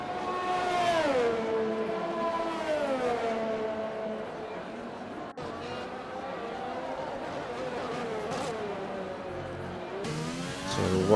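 Formula 1 car from F1 2020 lapping the Brazilian GP circuit, its engine whining steadily and rising and falling in pitch through gear changes across the whole stretch, with commentary voices underneath.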